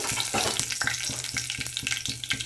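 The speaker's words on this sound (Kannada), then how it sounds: "ಸಾಸಿವೆ ಚಟಪಟ ಅಂತ ಇದೆ" Mustard seeds and cumin spluttering in hot oil in a kadai, a steady close sizzle broken by rapid, rhythmic crackling pops throughout.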